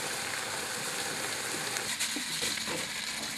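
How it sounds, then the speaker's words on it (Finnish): Liquid nitrogen at about minus 200 degrees hisses and sizzles steadily as it rapidly freezes a product, a loud continuous broadband hiss with a few faint crackles and no voices. "Sieltä kuuluu se perinteinen sihinä"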